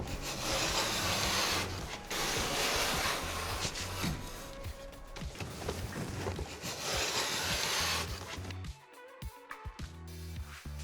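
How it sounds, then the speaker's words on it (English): A vinyl cutter scrapes and rasps along a wall as it trims vinyl flooring in a bedroom. The rough rubbing strokes come close and fairly quiet, with short pauses and a few knocks near the end. "So we will just start from this corner and we'll show you how to start, press, and you will just push it all along the wall."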